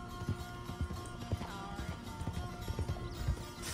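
In the RedM Red Dead roleplay game, a horse whinnies shrilly over a steady clip-clop of hooves, the neigh rising loud near the end, with faint voices in the background.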